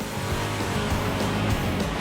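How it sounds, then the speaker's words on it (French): A car engine revs with a steady droning hum and a slight rise in pitch, running smoother after mothballs were added to the fuel, heard up close with no speech. "Adam augmente le régime du moteur."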